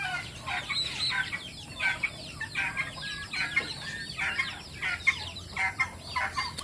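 Turkey chicks peeping in a steady stream of high, overlapping chirps, with poultry clucking mixed in on a farm where grown breeder-size turkeys are also kept.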